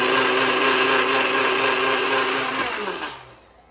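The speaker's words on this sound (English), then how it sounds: "And I'm just gonna blend this up" A loud, steady whir of a NutriBullet blender motor blending soup runs continuously for a few seconds, then spins down and stops.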